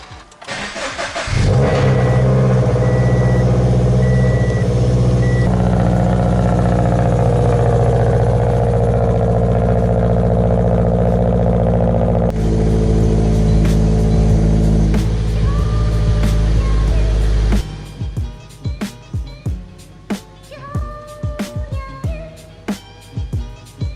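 A Subaru BRZ cold-starts with a sharp crank and catch, then a loud high idle that holds and steps down, the engine droning steadily before it cuts off and a few clicks and ticks follow.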